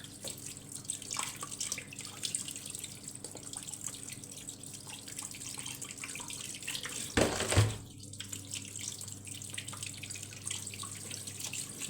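Tap water running steadily over crabs in a kitchen sink as they are rinsed, a constant close splashing stream with a brief louder gush and clatter midway.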